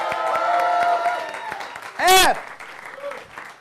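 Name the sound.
audience round of applause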